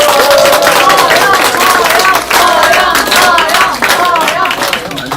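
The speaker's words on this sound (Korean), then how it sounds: "박수로 환영합니다" A packed political party gathering in Chuncheon claps and cheers in welcome for a lawmaker, with loud continuous applause and crowd voices mixed with talk throughout.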